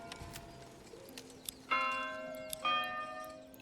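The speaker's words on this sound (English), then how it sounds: "I really like that church bell." A church bell tolling in the medieval village-building game Manor Lords, two clear ringing strikes with lingering tones over quiet ambient game sound and a few faint ticks.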